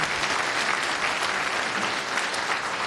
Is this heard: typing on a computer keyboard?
no